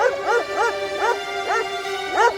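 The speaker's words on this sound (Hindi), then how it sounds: "फिर ये इतनी जोर से कैसे भौंक रहा है" A small dog barks loudly in a steady series of about six sharp, high-pitched yaps spaced roughly evenly, near and clear over a constant electronic hum.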